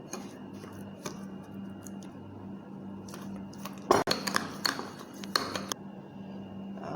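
A spoon clinks and scrapes against a bowl while batter for a Sri Lankan cake is mixed by hand, irregular taps and a busier flurry of clinking in the middle, over a steady low hum.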